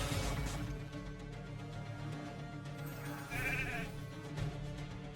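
Sheep bleating within an arena video game, with repeated wavering bleats over a dense bed of game music and effects at low overall volume.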